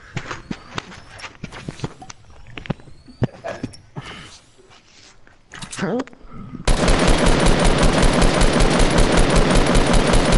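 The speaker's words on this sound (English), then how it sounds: "You're shooting the wrong side, Sam." Rapid gunfire from a Fortnite squads match: scattered sharp single shots and bursts with footsteps, building into a loud, sustained, continuous automatic barrage that runs to the end.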